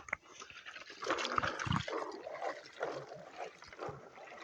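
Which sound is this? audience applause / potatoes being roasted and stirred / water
water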